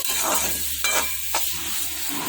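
A spoon stirs green chillies and salt through a raw banana curry in a pan, giving soft scraping strokes with two sharp clacks against the pan over a low steady sizzle; no one speaks.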